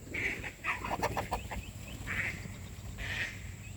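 Backyard chickens cluck and squawk in repeated bursts, fairly faint and a little distant, over outdoor background noise.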